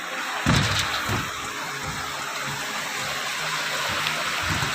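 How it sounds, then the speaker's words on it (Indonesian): The swift-flowing Ketahun river rushes in a continuous, close wash of water, with a few low thumps of handling noise near the start and middle and no speech. "Sungainya sangat deras ini."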